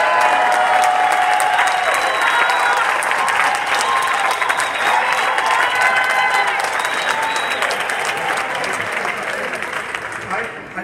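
An audience at a travel industry conference in South Africa breaks into sustained applause and cheering, a dense loud wash of clapping that tapers slightly toward the end.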